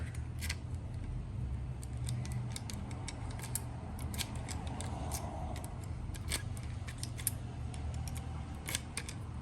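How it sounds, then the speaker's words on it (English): A key cutting machine grinds a new blade for a Kia/Hyundai car key used with The Club, giving a steady mechanical whir close by with many sharp ticks and scrapes throughout, no voices. "cut her another key"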